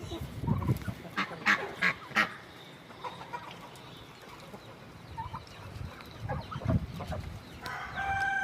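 Farm chickens on an evening outdoors cluck and squawk in scattered bursts, with a rooster-like crow and a few clearer calls near the end.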